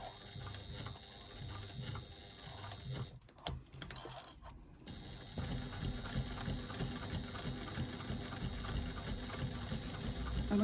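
Sewing machine running steadily close by while stitching a cotton penny pouch, its fast even needle chatter pausing briefly around the middle before resuming.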